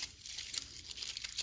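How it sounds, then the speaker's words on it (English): Aluminum foil crinkles and crunches as hands crumple a long strip into a ball and crush it down, a close, quiet run of crackling bursts with no talk. "I'm just using aluminum foil and a long strip. I crumple it up"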